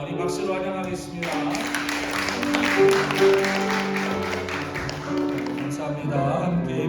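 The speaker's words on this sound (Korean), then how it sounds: "우리 박수로 환영하겠습니다" A church congregation applauds to welcome someone during a Korean worship service, a burst of clapping rising and holding for several seconds amid room murmur and music tones.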